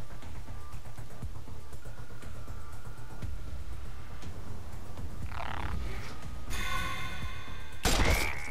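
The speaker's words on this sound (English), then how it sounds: "More toads." Toads croak in a video game amid a dense, busy mix of game sounds, with rising croaking calls and a sharp crash near the end.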